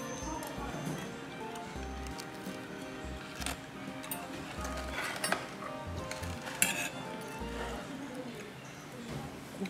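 Soft clinks and scrapes of a spoon against a plate as a thin, crisp pork cutlet is cut, under steady talking and background music.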